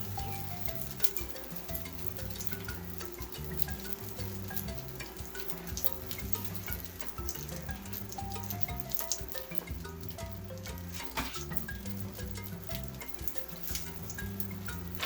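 Meatball kebabs fry in hot oil with a steady, dense sizzle and crackle running the whole time, fairly close and even in loudness, with scattered sharper pops and spits.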